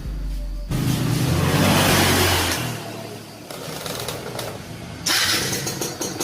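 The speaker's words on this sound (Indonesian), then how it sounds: "itu dari bunyi motornya itu sudah kasar ya teman-teman" A Yamaha F1ZR motorcycle engine runs rough, with a rattly knocking fault from the clutch housing, loud and close, idling unevenly and rising briefly twice as the throttle is blipped.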